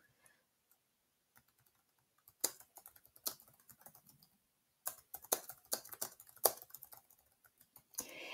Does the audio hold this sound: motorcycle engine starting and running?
no